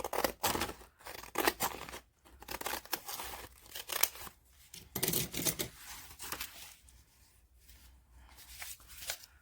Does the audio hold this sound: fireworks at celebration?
no